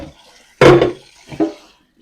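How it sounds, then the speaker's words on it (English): Gear is rinsed under running water in a kitchen sink while preserving a harvest, with two short bursts of splashing, the first louder and longer, separated by quiet. "Let's quickly rinse this gear off."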